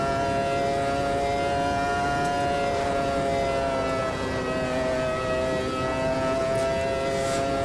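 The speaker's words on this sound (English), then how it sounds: "So we'll rev the engine out a bit harder and see where we get to." Race car engine in the sim racing game Automobilista 2, held at a steady high-revving whine with layered harmonic tones, loud and continuous throughout.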